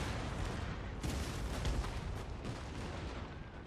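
Cannon fire rumbles through a dense, continuous battle din in Empire: Total War, with several heavier booms rising out of the steady roar.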